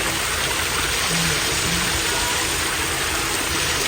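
Empress Falls waterfall pouring along a hiking trail, a constant, dense rushing roar heard close up, steady and unbroken from start to finish.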